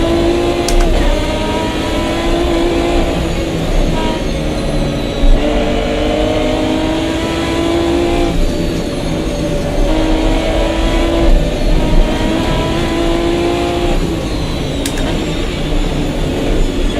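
2005 Corvette GT1 race cars charge around Bathurst in Automobilista 2, with loud, steady engine drone and shifting pitch from close cars, plus a few brief clicks over the sustained roar.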